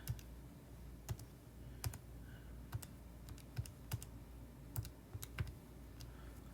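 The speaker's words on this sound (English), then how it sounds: "Let me go ahead and plug it in my calculator." Calculator buttons are pressed in a quick series of sharp, close clicks at an uneven pace, quiet and alone with no talk.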